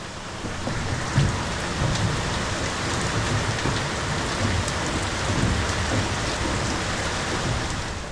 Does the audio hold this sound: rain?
yes